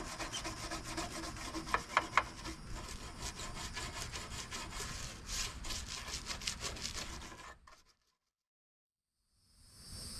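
Scrubbing the lid of a Camp Chef pellet grill clean so a high-temperature gasket will stick: steady, close, rasping strokes that go on for several seconds, then stop abruptly into silence.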